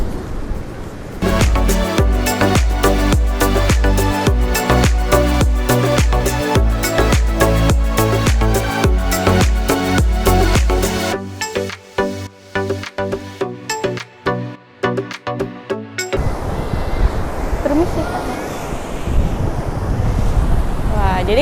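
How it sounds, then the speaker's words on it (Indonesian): Big rolling ocean waves crash continuously on a beach with strong wind buffeting the microphone, loud and close, the roar easing briefly before surging again with no one speaking. "ombaknya memang benar-benar besar, gulungan ombaknya, dan anginnya lumayan kencang juga"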